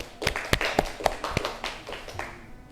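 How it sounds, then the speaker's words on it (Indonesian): A small classroom group gives a short round of clapping for a student presenter, scattered uneven claps close by that soon fade out, with no talking over them. "Ya, tepuk tangan kepada Mbak Zahra"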